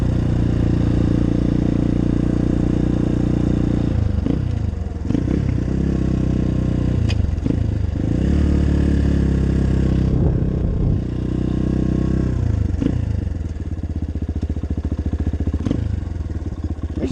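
A 2018 Apollo 250RX motorcycle engine runs steadily up close, its loud throbbing drone interrupted by a few revs and clattering mechanical knocks.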